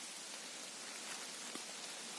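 Light rain during a summer mushroom-foraging walk in the woods, a soft continuous hiss of drizzle on leaves, faint and steady with no voices.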